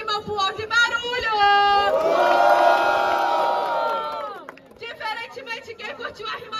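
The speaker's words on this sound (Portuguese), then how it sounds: "Quem curtiu a rima do Spike, mão pro alto e barulho" A crowd at a rap battle semifinal in Cabo Frio cheers and shouts for a rhyme, a loud, sustained roar of whoops and yells that swells between stretches of chatter and a host's voice.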